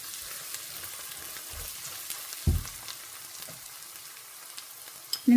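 Turmeric powder frying in oil in a pan is stirred, a soft continuous sizzle with a few scraping knocks of the spoon against the pan, close and quiet with no voices.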